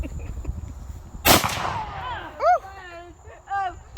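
One loud, sharp crack from an AR-15 pistol fired close by, followed by people exclaiming and talking over the fading echo.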